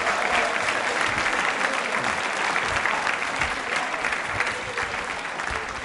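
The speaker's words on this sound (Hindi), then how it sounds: "जोरदार तालियां जोरदार बजनी चाहिए" A large school audience claps loudly and continuously in sustained applause.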